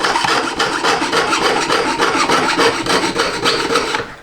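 Harsh, continuous rasping of a tool scraping through metal, in rapid back-and-forth strokes, loud and close.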